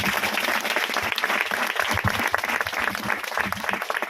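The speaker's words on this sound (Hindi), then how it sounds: "जोरदार यीशु मसीह के लिए ताली बजाइए" A church congregation at a gospel meeting claps together, a loud, continuous burst of dense applause filling the room.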